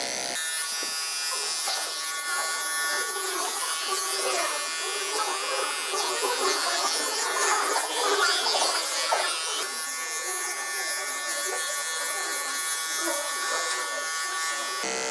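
An electric hair trimmer buzzes steadily and continuously at close range while grooming a Shih Tzu, its whine wavering slightly as it moves.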